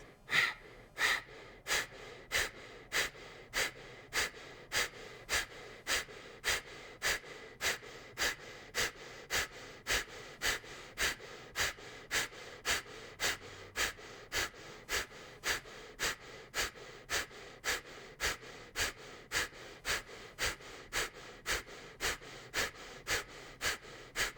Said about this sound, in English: Inhale deeply and begin breath of fire.